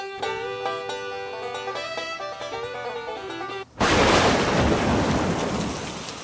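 Music gives way to a thunderstorm over an outdoor barbecue cook: heavy rain hisses loudly while deep thunder rumbles close by, filling the second half.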